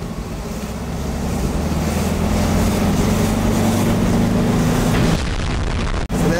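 A Volkswagen Beetle engine revs up and drones loudly and steadily with wind rush, then cuts off abruptly near the end.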